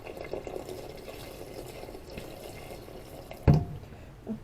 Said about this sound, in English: I'll add water some more.